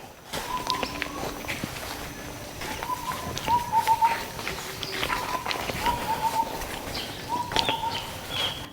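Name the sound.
birds calling in forest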